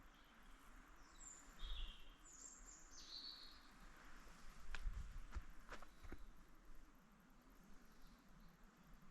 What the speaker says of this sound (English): It's almost totally silent other than the faint sound of the river and the birds.